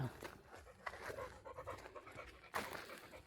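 A dog pants rapidly and steadily close by in an oil palm plantation, quick breathy huffs running throughout with outdoor rustle in the background.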